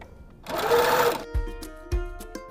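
A sewing machine runs in a short burst while stitching a seam allowance closed on a fabric tube for a ring pillow, followed by a few sharp clicks and taps, fairly quiet and close with no talk.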